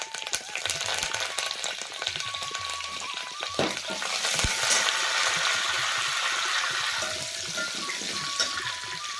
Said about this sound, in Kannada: ನೋಡಿ ಪೋಡ್ನಿ ಕೊಟ್ಟಿವಿ ನೋಡ್ರಿ ಎಲ್ಲ ರೀ.